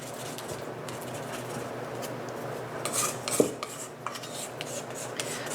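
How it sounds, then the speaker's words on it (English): Close scraping and rubbing of a utensil around the sides of a bowl holding sourdough levain, soft repeated strokes with a couple of sharper clinks near the middle, quiet and without talking. "I'm going to scrape this off and give my bowl a little"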